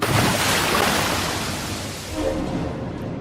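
Strong ocean waves crash and surge around a small boat at sea, a loud continuous roar of surf and wind with no pause, swelling again near the end.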